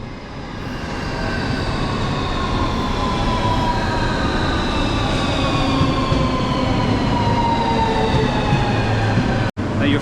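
A suburban train at a Moscow railway station, rolling with a steady loud rumble and rising whine of motors, close and continuous for the whole stretch, with a brief dropout near the end.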